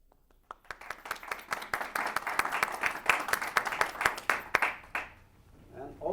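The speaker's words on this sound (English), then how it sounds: "So I think he deserves a big round of applause." Audience applause at a book launch, starting with a few scattered claps, then building into lively, moderately close clapping from a small room that tapers off after about five seconds before a voice begins speaking.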